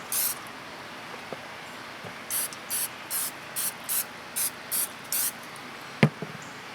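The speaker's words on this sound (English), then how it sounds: "I hit it with a little spray." Short hissing bursts of aerosol cooking spray hit chicken on a smoker in a quick regular series of about nine puffs, close by, followed by a light tap.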